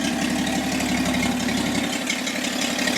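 An old car engine idles steadily after a new fuel pump and carburetor adjustment, a continuous close, even rumble with a faint ticking texture and no talk.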